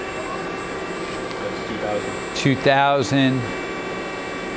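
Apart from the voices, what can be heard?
Southwest Industries TRAK CNC bed mill spindle running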